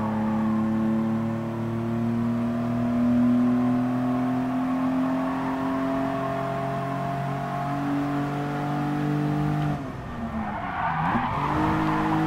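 A 1991 Mitsubishi 3000GT Twin Turbo races in Gran Turismo Sport, its engine note droning steadily and rising and falling. Near the end the engine cuts back briefly amid tire scrub and collision noise.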